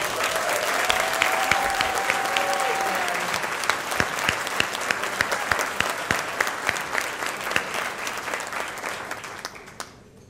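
An indoor audience at an honorees event applauds, a dense steady burst of clapping from many hands that slowly thins out, with a faint voice briefly heard in the crowd.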